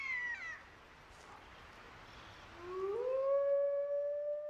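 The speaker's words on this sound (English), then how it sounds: "Howling, the wolf call to arms, gathers the pack and warns other wolves to back off." Wolves howl in the Siberian wilderness, one long rising call swelling loud and sustained, with an earlier fading howl at the start and a thin overlapping voice joining in, no talk.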